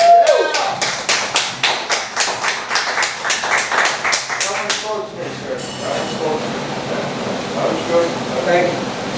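Audience at a poetry battle claps for the poets in a sharp, regular rhythm of loud unison claps for about five seconds, then the clapping gives way to scattered noise and talking.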